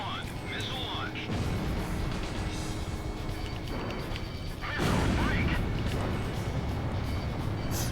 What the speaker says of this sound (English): Radar lock. Golem 1, missile launched.